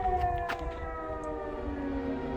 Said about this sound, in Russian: Вы слышите, как воют сирены в Первомайске?